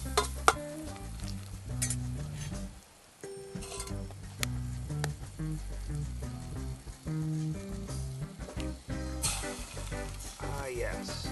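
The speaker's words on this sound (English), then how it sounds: "Hear that sizzle." Butter sizzles in a hot pan over a campfire, a steady crackling fry with some stirring clinks, while a voice talks over it and music plays underneath.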